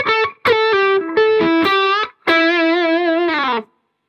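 A distorted Yamaha electric guitar plays a short lick in separate bursts of sustained notes with vibrato, ending on a held D that cuts to silence.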